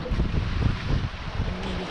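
Steady wind rumble and buffeting on a boat at sea off Calvi, with strong offshore wind and a fairly rough swell, a continuous moderate roar with no voices.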